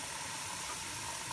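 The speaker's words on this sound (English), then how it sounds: "I'm going to now fill this up with water." Water rushes steadily into a blender container with a constant hissing, splashing pour, fairly close and uninterrupted.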